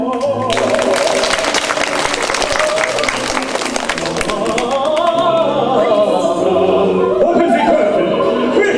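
An audience at an Animalopera performance breaks into a burst of clapping that rises and stays loud, then thins as music and sustained tones take over.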